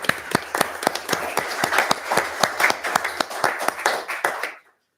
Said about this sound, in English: Can we give the vets the hand? Oh, applause? absolutely.